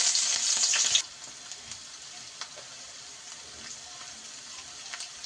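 Chili dropped into hot oil in a pan for a broccoli chicken rice dish gives a loud burst of sizzling for about a second, then fades to a faint, quiet hiss with scattered small crackles.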